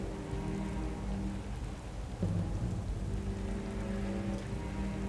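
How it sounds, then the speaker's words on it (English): Steady rain pours in the Tomb Raider remastered game, a dense hiss over a low rumble of thunder that swells briefly midway, with no voices. "I like how the rain freezes too."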